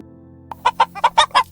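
A chicken clucks close by, several short rhythmic clucks in quick succession against a quiet background.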